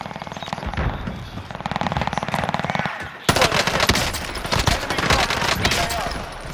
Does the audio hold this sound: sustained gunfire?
yes